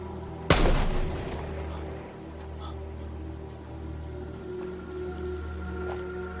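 A single sharp rifle shot cracks out early in a film scene, followed by a long fading rumble and a steady low hum, with no further shots.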